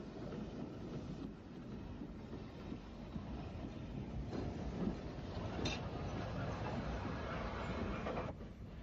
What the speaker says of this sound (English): We will head back to RYDE, crossing another Ventnor train en route.